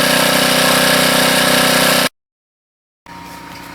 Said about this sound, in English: Pros and cons of the DC generator.